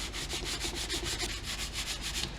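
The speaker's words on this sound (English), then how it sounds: "and then take a little sandpaper" Sandpaper rubs back and forth over a glued, sawdust-filled crack in a wooden bench board, a loud, close, rhythmic rasp of quick even strokes with no talking.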